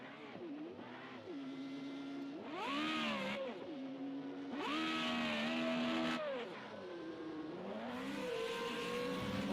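A Formula Regional FR35 open-wheel race car laps Watkins Glen, engine revving up and down through gear changes as it climbs and crests a hill, a continuous loud onboard engine note with rising and falling pitch sweeps.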